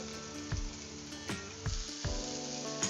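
Chopped cabbage and coriander sauté in a pan for paratha, a steady close sizzle broken by four soft clunks of a spatula stirring at roughly even intervals.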